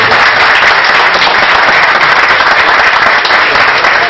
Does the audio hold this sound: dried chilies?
no